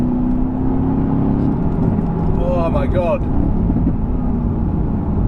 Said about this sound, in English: Oh, it just takes off. And you get awesome exhaust crackles.